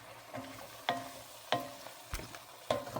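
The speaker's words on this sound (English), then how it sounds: "And then we're going to give this a stir." A spoon stirs spices and a bay leaf in a pot with a soft, quiet sizzle, broken by four or five sharp knocks of the spoon against the pot at a slow, even pace.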